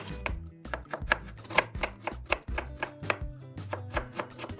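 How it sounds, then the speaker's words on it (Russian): A knife finely chops an onion on a cutting board, with quick, even strikes repeating close up and no voices. "Мелко порежу репчатый лук."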